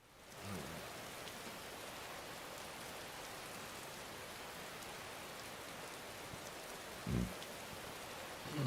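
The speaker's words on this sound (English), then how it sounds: "I'm standing in the rain, Lydia." Rain falls in Skyrim as a steady, even hiss of drops on surfaces, soft and continuous, with one brief low thump partway through and no talk.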